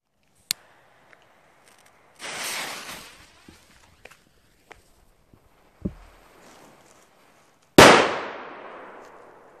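Millennium Cracker Colour Flower firecracker going off: a sharp crack, a hissing green burn lasting under a second, scattered small pops and clinks, then a loud close-up bang with a long decaying echo.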